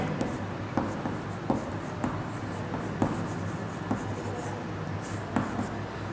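Handwriting on paper or a board during a science lesson: a run of soft scratching strokes with small taps at roughly one-second intervals, close and quiet, with no speech over it.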